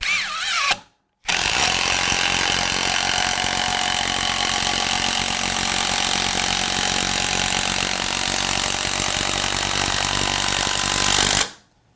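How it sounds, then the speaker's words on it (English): Hitachi Triple Hammer 18V brushless impact driver (WH18DBDL2) in high-speed, high-torque mode, running steadily and loudly for about ten seconds while driving a long fastener, after a brief opening burst and short pause, with no talking. "see exactly how fast the impact driver could install something like this"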